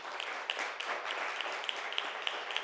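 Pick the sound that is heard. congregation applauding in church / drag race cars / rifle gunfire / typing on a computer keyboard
congregation applauding in church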